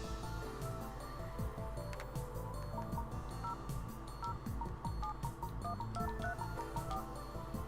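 Telephone number being dialed in the Famicom Detective Club video game: a steady run of short chip-synth dial tones plays over looping retro game music, loud and continuous throughout.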